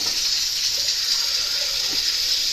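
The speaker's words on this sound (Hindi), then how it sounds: "2 किलो पानी डाल रही हूँ उसमें।" A steady stream of water, about two kilograms, splashes and hisses continuously into a cooking pot for rice, close and fairly loud, with no pauses.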